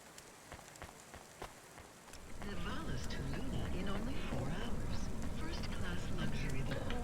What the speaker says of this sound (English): So we must be just below the cloud layer for it to be raining constantly.